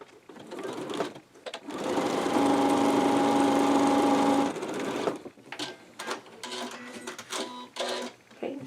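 A sewing machine runs a steady, loud mechanical whir for a couple of seconds while stitching quilting cotton mask fabric, framed by fabric handling and shorter clicking bursts.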